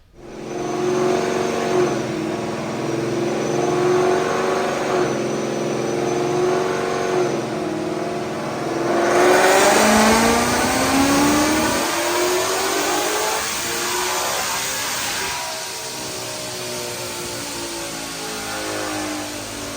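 Supercharged 2021 Ford Mustang GT automatic with long-tube headers on a dyno pull, the engine revving loudly and climbing in pitch through the gears with supercharger whine, close and continuous.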